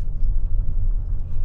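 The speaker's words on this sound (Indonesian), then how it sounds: "langsung kita bawa jalan mobil ini" A Toyota Kijang Innova Zenix Q Hybrid drives along as a steady low engine and road rumble, a dense, continuous drone heard from inside the car with no talk.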